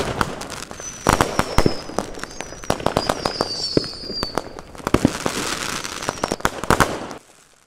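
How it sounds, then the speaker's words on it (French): Fourth of July fireworks in Los Angeles, a dense run of sharp bangs and crackling bursts at irregular intervals over a constant crowd murmur, some whistling rising through, stopping abruptly near the end. "Et finissez en beauté avec les fameux feux d'artifice du 4 juillet."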